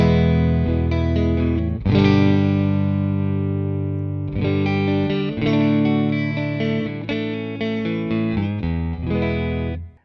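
An electric guitar plays clean on a Stratocaster's neck pickup through a Mesa Boogie Lonestar amplifier: warm sustained chords and picked notes, close and steady, with one strong strum near two seconds and no voices.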